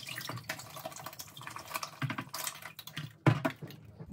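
Combs and brushes rinsed under lukewarm tap water, close splashing and trickling with uneven bursts and a louder splash near the end, no speech.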